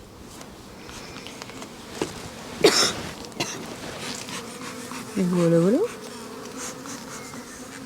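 Honeybees buzz steadily around open brood frames at a hive, a continuous close-up drone with a few sharp knocks and a brief spoken phrase partway through.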